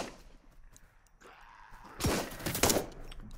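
Gunfire in a zombie shooter game crackles from a distance, a quiet rumbling lead-in giving way to a louder burst of overlapping shots near the end.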